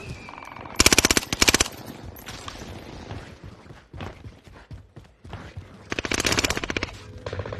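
Gunfire in a shooter video game: two sharp rapid-fire bursts early on, scattered lighter shots and mechanical clatter in between, then another sustained burst near the end, loud and close.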